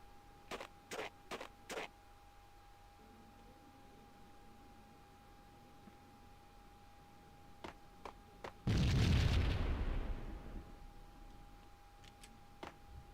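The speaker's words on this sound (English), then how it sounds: "They throw grenades in here too?" Grenade explosions in the video game Max Payne: a single loud, broad burst that rolls off over a couple of seconds, preceded and followed by scattered small clicks and ticks over a quiet background hum.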